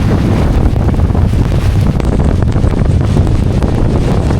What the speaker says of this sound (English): All right, it's a big squall. It's a really big squall.